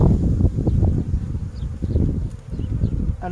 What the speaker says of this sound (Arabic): إذن سأدخن عليها قليلا كي يهدأ النحل